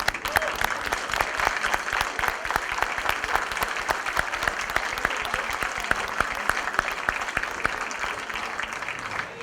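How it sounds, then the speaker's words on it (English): Applause for the freshman class of 2016 at a college convocation ceremony, a sustained crowd of hands clapping evenly at moderate distance, continuous and alone without speech. "we're going to applaud them as the freshman class of 2016"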